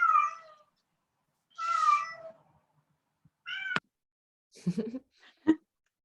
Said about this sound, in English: And that's my cat who meows very loudly